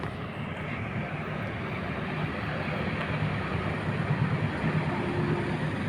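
A CC201 diesel locomotive hauling the Penataran train passes nearby, a steady broad rumble and roar that holds at moderate loudness for several seconds, with no talking.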